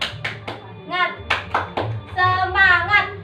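Rhythmic classroom clapping of the tepuk semangat cheer, a quick pattern of sharp hand claps sounding near and fairly loud, mixed with children's and a teacher's voices.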